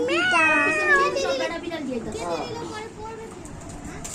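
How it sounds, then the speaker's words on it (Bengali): Several cats meow close by in a series of drawn-out, wavering cries. People talk over them. "এই যে একটা বিড়াল এই যে আরেকটা বিড়াল এটাও বিড়াল"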